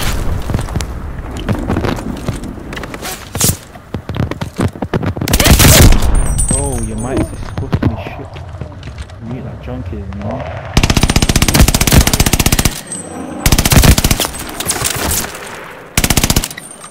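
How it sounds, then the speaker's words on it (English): Video game battle with glide bomb explosions and gunfire: rapid bursts of automatic fire and heavy booms come close and loud in repeated stretches, with a voice talking between them. "Enemy glide bomb incoming!"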